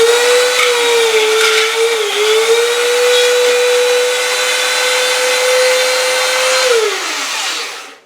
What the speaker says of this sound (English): so I'm gonna use my favorite tool, a Dremel with a tile bit.